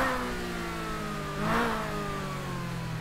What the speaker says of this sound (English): this guy sounds like he got a built engine